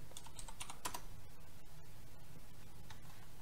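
Quick bursts of keystrokes on a computer keyboard as a command is typed, close and crisp over a steady low hum, with no talking.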